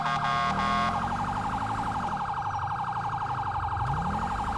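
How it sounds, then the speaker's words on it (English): A police car's phaser siren in the video game LSPDFR, featuring a 2014 Dodge Charger, whirs in a rapid, continuous warble over a low engine drone that rises and falls, loud and unbroken throughout. "Gotta just keep up this pure phaser. That way they can at least hear us coming quick at these intersections."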